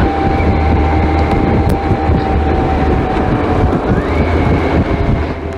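A motorcycle rides through heavy road traffic, its engine a steady close drone under broad rushing wind and road noise, with faint tonal hums drifting in and out and no one speaking.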